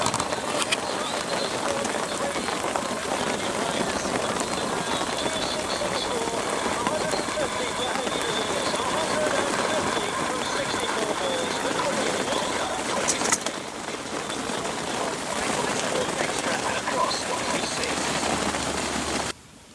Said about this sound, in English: it's absolutely pelting the snow